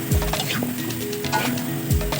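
Eggplant for acar tumis sizzles steadily in a frying pan while a utensil stirs it, with scraping strokes near the start and end over continuous close frying hiss.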